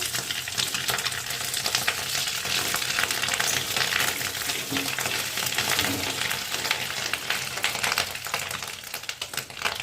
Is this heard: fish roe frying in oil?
yes